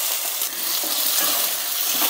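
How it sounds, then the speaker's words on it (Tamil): Tomato, onion and garlic sautéing in a pan, a steady close sizzle with light stirring scrapes running continuously for the whole stretch, no voices over it. "பாருங்கம்மா, தக்காளியும் வெங்காயமும் இந்த அளவுக்கு நல்லா வதங்கிடணும்."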